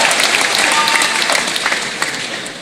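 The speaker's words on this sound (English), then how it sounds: "Hold for Applause." Audience applause at a San Diego Comic-Con 2018 panel for the Dr. Horrible's Sing-Along Blog 10th anniversary, a dense, steady roar of many hands in a large hall that tapers slightly toward the end.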